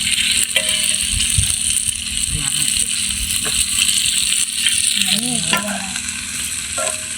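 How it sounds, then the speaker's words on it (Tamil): Fish frying in a pan on a stove, a steady sizzle running throughout with occasional stirring clinks and faint voices in the background. "நல்லா மீன் வெந்துட்டுருக்கு"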